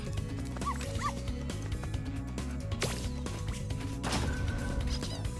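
A small dog or wolf in Spyro Reignited Trilogy gives several yips and whimpering barks over busy game music, close and repeated at irregular intervals.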